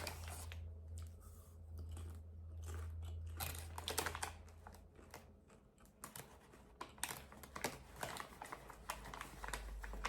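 Chewing protein popcorn up close, a steady run of crunchy bites and jaw sounds carrying on alone over a low hum.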